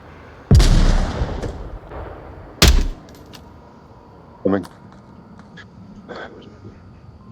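Gunfire in the VR shooter Onward near a gas station outbuilding, two sharp loud shots about two seconds apart followed by a softer, more distant report and faint scattered clicks, with quiet breathy voices in the background.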